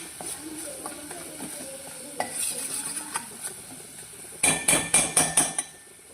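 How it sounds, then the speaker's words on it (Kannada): Masala powders fry in a pan for masala oats while a spoon stirs, steady scraping and light sizzle giving way to a quick run of about six loud metallic clacks against the pan. "ಒಂದು ಸಲ ಚೆನ್ನಾಗಿ ಮಿಕ್ಸ್ ಮಾಡೋಣ ಮಸಾಲದು ಫ್ಲೇವರ್ ಬರಬೇಕು ಅಲ್ಲಿವರೆಗೂ ಫ್ರೈ ಮಾಡಿ"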